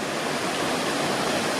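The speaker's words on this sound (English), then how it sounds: "Beautiful little waterfalls" Small waterfalls at an old mill site in Goshen, Connecticut give a steady, dense rush of falling water, close and loud, with no voices over it.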